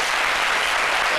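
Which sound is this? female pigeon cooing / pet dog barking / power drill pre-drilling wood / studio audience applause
studio audience applause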